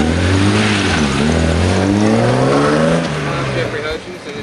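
A BMW 325is engine revs hard and loud, its rising and falling drone dominating close by, with a voice talking over it at times.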